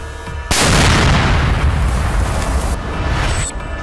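A single loud explosion bursts suddenly and roars on as a long, rumbling blast that slowly fades, with no voices, during a Naxal encounter in Bijapur, Chhattisgarh.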